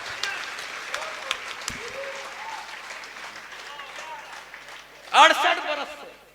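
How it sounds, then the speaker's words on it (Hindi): Applause rises from the audience at a live kavi sammelan poetry gathering in Hamirgarh, a brief loud burst of clapping near the end following a stretch of murmuring voices and background talk. "एक बार बजा दो यार ताली अच्छे से यार।"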